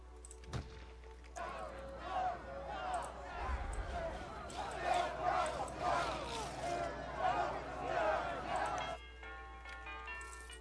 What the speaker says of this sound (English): Like, this crowd of people protesting, probably very legitimately